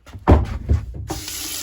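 Cold water from a sink tap inside a converted short school bus, starting after a couple of knocks and handling sounds and then running as a steady close hiss to the end, with no voices.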